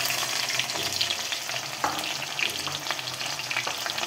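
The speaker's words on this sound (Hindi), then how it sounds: "मैंने यहाँ पर 4 प्याज लिए हुए हैं और इसे अच्छी तरह से भून लेते हैं जब तक इसका कलर येलो ना हो जाए" Four onions frying in a pan for a chicken tikka masala curry, a steady close sizzle with occasional stirring scrapes, no voices.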